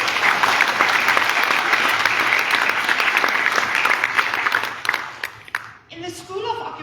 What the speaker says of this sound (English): Ladies and gentlemen, you may now applaud.